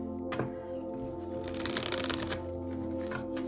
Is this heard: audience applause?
no